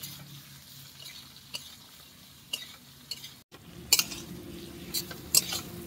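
Capsicum and chopped onion frying in oil while being stirred for a mutton curry, a steady low sizzle with a few sharp clinks of a utensil against the pan.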